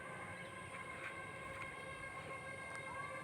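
A train pulls in at platform 3 of Bhojipura railway station, giving a steady rumble with faint tonal whines and a rising squeal near the end. The sound is continuous and moderately distant, with no talk.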